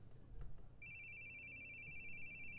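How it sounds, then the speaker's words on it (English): A phone rings in a room during play of a horror game, sounding as one sustained electronic tone that starts a little after a faint knock and carries on steadily to the end. Quiet overall. "Your phone's ringing."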